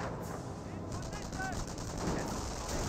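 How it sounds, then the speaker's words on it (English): Sustained gunfire in the World War II strategy game Company of Heroes, a lieutenant firing on Volks Grenadiers amid dense, continuous battle noise with rapid overlapping shots. "Lieutenant firing away against the Volks Grenadiers."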